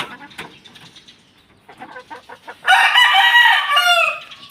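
White kelso gamefowl rooster crowing loudly and close, a single drawn-out crow preceded by softer clucks and rustling on a farm.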